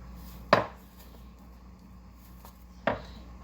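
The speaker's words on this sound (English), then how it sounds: "I cut the plantain in half. Now I'm gonna slice it." Two separate knife cuts through ripe plantain on a board, each a short sharp tap about two seconds apart, quiet and close with no talk.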